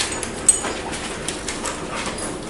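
Several dogs play roughly together, with a dog's faint whimpers and brief yips standing out over a low continuous noisy background, a sharp peak early on.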